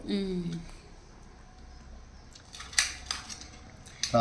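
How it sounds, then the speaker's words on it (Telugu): A knife cutting a bottle gourd into pieces on a board, a few sharp close chopping clicks near the end after a faint quiet stretch, with brief bits of a voice at the start. "ఇలా మొత్తం కాయ మొత్తం ఇలాగూ ఈ సైజ్ ముక్కల్లా కట్ చేసుకోవాలి"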